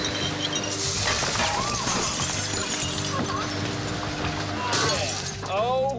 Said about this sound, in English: 6 meters away from the lawnmower, the team has set up a wall of glass jars, which, when full, are stronger than your skull.